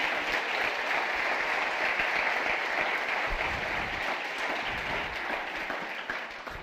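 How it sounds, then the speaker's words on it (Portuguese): Congregation at a church service gives sustained, loud applause, a dense wash of many hands clapping steadily throughout and tapering slightly at the end. "Você pode dar um aplauso bem forte"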